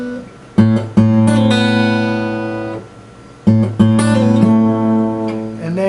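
Acoustic guitar playing a phrase from a song, a plucked note on the second string pulled off to lower notes and the open string, played twice with ringing sustained tones, close and clear.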